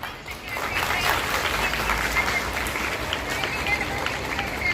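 A school investiture ceremony crowd applauds a guest of honour, steady dense clapping filling the hall throughout, fairly loud and continuous with a slight swell after the start.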